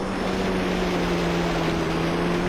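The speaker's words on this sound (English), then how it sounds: "I think I can also hear a helicopter outside my house somewhere" Steady low droning rotor and engine noise of a helicopter flying somewhere outside a house, a continuous hum with a faint tonal whine that stays level throughout and blends into broadband background rumble.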